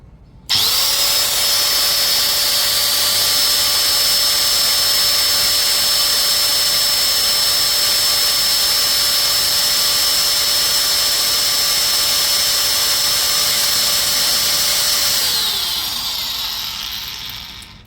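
A DongCheng DSM17-100P electric angle grinder spinning up and running without load, a loud, steady high-pitched whine held for about fifteen seconds before it winds down.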